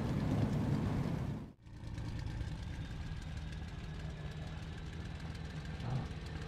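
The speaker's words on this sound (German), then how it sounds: "ich starte gerade den Motor" An aircraft engine idles in the IL-2 Cliffs of Dover combat flight game, a dense continuous rumbling drone that briefly dips near the start and then holds steady and loud, with no talking.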